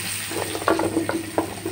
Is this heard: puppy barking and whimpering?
no